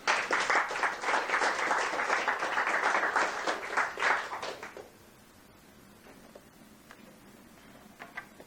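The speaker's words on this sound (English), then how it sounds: "Now you can clap." An audience claps loudly and steadily for several seconds, then the applause stops abruptly, leaving a quiet room with a few faint taps.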